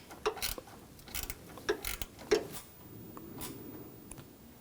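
Bolt being started and tightened on an AC compressor hose line of a 2006-2010 Hummer H3 3.7L, heard as a few sharp metallic clicks and ticks spaced irregularly over a quiet background.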